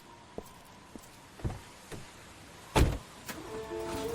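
Car sounds in a radio drama: a series of separate mechanical clunks and thumps, then a louder door-like bang and a rising motor whine near the end, with no talk.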